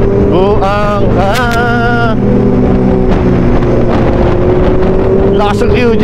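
A QJ motorcycle engine roars loudly while riding, with rising revs and gear-change sweeps early on. After that it settles into a steady drone under heavy wind buffeting, and voices come through faintly.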